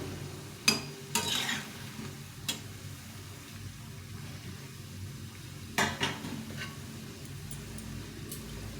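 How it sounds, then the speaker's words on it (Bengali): Potato fritters (aloo fulori) fry quietly in oil with a faint steady sizzle, punctuated by a few sharp clinks and scrapes of a utensil against the pan. "এইভাবে করে আমি সবগুলো ভেজে নেবো"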